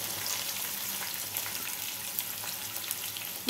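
Chopped garlic and onions frying in a pan, a steady, even sizzle heard close and alone, holding at a constant level with a slight bump at the very end.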